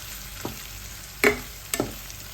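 Potato curry with ginger garlic paste fries in a pan under a low sizzle, broken by three sharp scrapes or taps of a spoon against the pan.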